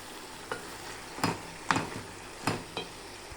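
Spices, chili powder, turmeric, pepper and coriander powder, frying in a pan for paneer masala curry, a faint background sizzle broken by five or six distinct scraping stirs and utensil knocks against the pan, no speech.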